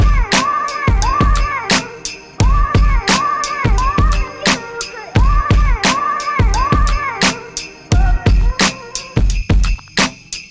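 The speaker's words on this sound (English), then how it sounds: "I just grabbed a kick, a snap, a clap, and a snare, and I made this really simple pattern" A simple looping drum pattern of kick, snap, clap and snare plays over a chiming Christmas song sample. The sharp hits fall in a steady rhythm and stand loud and alone, with no voices.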